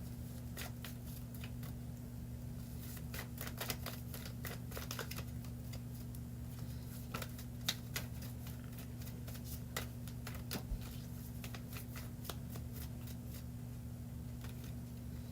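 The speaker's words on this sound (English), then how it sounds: "so I'm just gonna shuffle again and let's see." Repeated soft riffling and snapping of tarot cards being shuffled, in irregular bursts over a steady low hum, close by with no talking.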